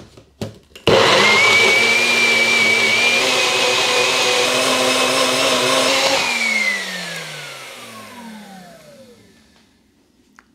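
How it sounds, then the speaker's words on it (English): A blender whirs up ingredients with salt and minced garlic, starting abruptly with a loud steady high whine, holding for about five seconds, then winding down with a falling pitch into silence. "blend that"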